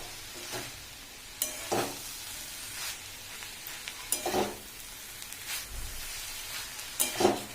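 Cabbage and moth beans are stirred in a pan, with a soft continuous sizzle broken by repeated scraping strokes of a spoon every second or two, close and moderately loud.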